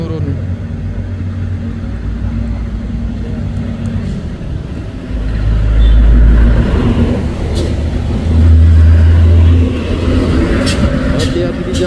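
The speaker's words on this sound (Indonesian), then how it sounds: "Di atas ada truk box Thermo King yang menurun." A Thermo King refrigerated box truck rolls downhill on a hill road, its low engine rumble swelling louder twice as it passes close, with steady traffic noise throughout.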